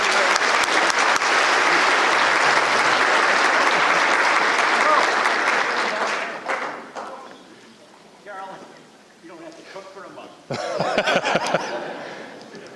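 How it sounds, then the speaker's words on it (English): Loud, steady applause from a crowd at a chamber of commerce annual event fills the first six seconds, then fades into scattered claps, murmurs and a brief burst of chatter. "Please give him another round of applause, ladies and gentlemen."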